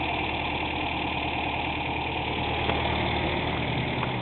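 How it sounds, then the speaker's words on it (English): The small engine of a 1962 Nash Metropolitan convertible idles smoothly and steadily close by, a continuous even hum with no other sounds over it. "Listen to that engine purr."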